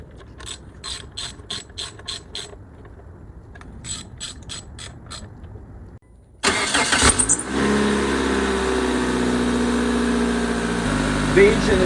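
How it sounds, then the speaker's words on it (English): Clicking ratchet-like mechanical sounds give way to a 2002 Mitsubishi Galant engine cranking and catching after valve cover gasket and spark plug replacement, then settling into a loud, steady idle. "The engine is started."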